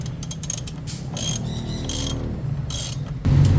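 A ratchet tightens the front brake bolt on a Bristol Venturi 500 motorcycle with a quick run of sharp metallic clicks in short bursts, close and clear, ending in a louder clunk.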